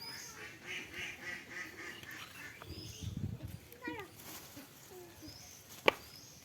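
Ducks quack in short bursts by a village pond while a person sits sorting leafy greens, with a brief sharp knock near the end and faint background voices.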